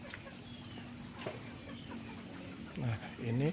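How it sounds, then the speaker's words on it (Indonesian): Farm chickens at an Indonesian livestock site with biofloc ponds, clucking in short bursts that grow louder toward the end over a steady low hum, with faint voices nearby. "Ini ayam."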